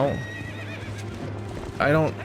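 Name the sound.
horse neighing and galloping in Zelda: Twilight Princess video game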